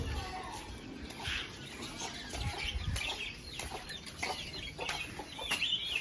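Chickens cluck and flap in cages flooded by rain, soft scattered clucks and wing rustles close by over a steady hiss, with a person speaking over them.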